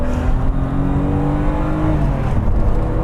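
A BMW E28 M5 accelerating hard up an on-ramp, its engine droning loud and close as the pitch climbs steadily over a few seconds, with no talk over it.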